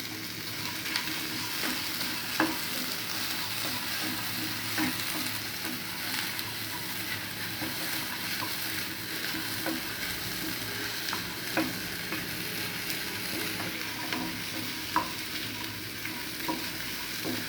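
Tomatoes, coriander seeds and dried red chillies fry in a pan for a chicken curry, a steady sizzle with scattered stirring clicks and scrapes throughout, no voices.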